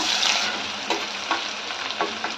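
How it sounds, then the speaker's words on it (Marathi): Curry leaves and finely chopped onion hit hot oil in a pan, giving a loud bright sizzle that settles into steady frying, broken by a few short scraping stirs, with no voices. "तेल गरम झालं ना की कढीपत्त्याची चार ते पाच पाने घालायची एक बारीक चिरलेला कांदा"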